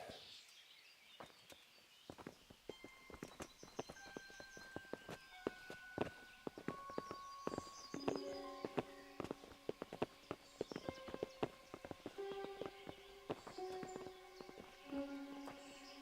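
Horses walking with steady clip-clop hooves, a busy run of overlapping hoof strikes over about sixteen seconds with scattered bird calls and a low outdoor bed, moderately near.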